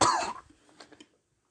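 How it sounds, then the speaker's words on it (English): A single harsh cough up close, followed by a few quieter rasping throat sounds that fade into silence. "Sonic coughing out a bit"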